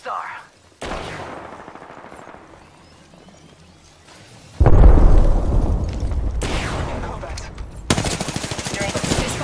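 Automatic weapon fire in Apex Legends, bursts of rapid gunshots and booms layered with game effects, loud and close, intensifying in the second half.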